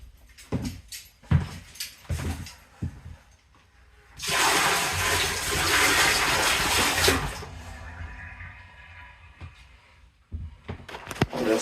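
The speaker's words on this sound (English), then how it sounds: "once I hear it flushing, I'm gonna stop" A toilet in a single-wide mobile home bathroom being flushed by pouring a bucket of water into the bowl, a loud rushing swirl lasting a few seconds, framed by scattered knocks and clunks before and after.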